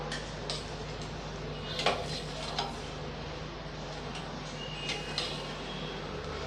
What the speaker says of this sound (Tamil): இப்போ நல்லா இதை கலந்து விட்டுறலாம்.